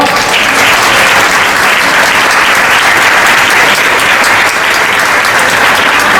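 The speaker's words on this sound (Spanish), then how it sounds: "Un aplauso, por favor." An audience at the Club Universo Extremeño 2021 awards gala applauds in a loud, dense, sustained round with no voices over it.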